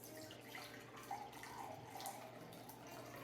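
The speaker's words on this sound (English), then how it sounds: "we're going to do a full cup of cranberry juice" Cranberry juice, a full cup, poured into a holiday punch bowl already holding orange liqueur, giving a soft steady liquid stream that runs evenly throughout, quiet and close, with no talking.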